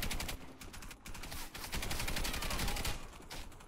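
Rapid automatic fire from a Stechkin APS pistol in Warface, quick rattling shots in bursts with short pauses, fairly quiet and without speech.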